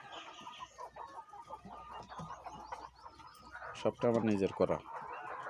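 Chickens and a rooster cluck on a Bangladeshi poultry farm, with steady clucking and calls running beneath a man's speech and a louder burst of bird calls near the end.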